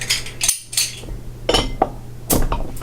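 A bottle of Perennial Abraxas imperial stout being opened, with a series of close metallic clinks and knocks from the cap and opener separated by brief pauses.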